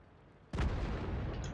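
Tank cannon fire in a video game: a single sudden loud boom after a half-second of quiet, followed by a rumbling decay that fills the rest of the moment.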